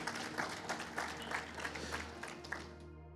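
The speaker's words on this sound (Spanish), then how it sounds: "Denle un aplauso" A church congregation claps along in a steady, rhythmic beat, fairly faint and distant, with a low musical drone underneath.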